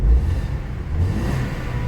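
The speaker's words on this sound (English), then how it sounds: "They always had a really nice induction noise, and the engines are a little bit throaty." A 2018 Subaru Forester Limited engine revs up with a throaty intake roar, steady and close, rising slightly as it accelerates.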